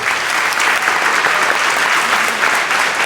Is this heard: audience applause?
yes